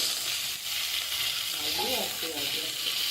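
Potatoes fry in hot oil with cumin, giving a loud, continuous sizzling hiss close up, with a brief faint voice partway through.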